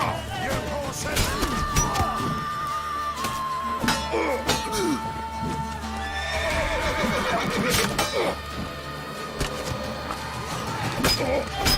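Horses neigh and whinny repeatedly amid a busy soundscape of hooves, clashes and shouting voices in the video game The Witcher 3: Wild Hunt.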